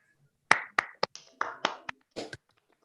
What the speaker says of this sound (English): we should give her a standing ovation